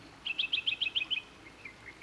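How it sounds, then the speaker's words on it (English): Birdsong in the video game Botany Manor: a single bird gives a quick series of about eight bright, evenly spaced chirps, then a few fainter trailing notes, clear against a quiet ambient background. "There's a lot of birds"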